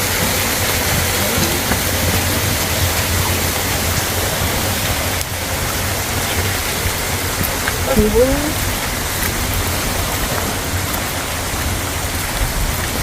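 Steady rain and many small waterfalls rushing along a hiking trail on Madeira, a dense continuous wash of water noise that stays loud throughout.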